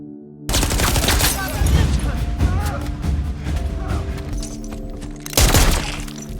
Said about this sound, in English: However, cornered, Kinney is forced to open fire.